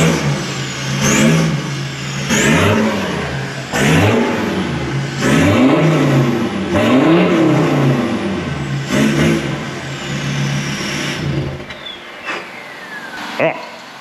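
A Ford Ranger 3.2L with a 4-inch stainless steel diff-dump exhaust revs repeatedly, each loud blip rising and falling in a rhythmic series close by, before settling to idle.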